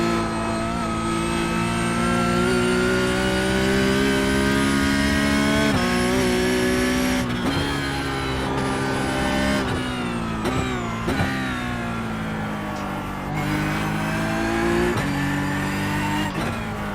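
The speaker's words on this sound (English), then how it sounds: "That blue Porsche in the mirror getting bigger and bigger" A Porsche Cup race car engine in iRacing, on the Summit Point circuit, drones loud and steady throughout, its pitch rising and dipping with brief lifts and gear changes as it runs hard and close.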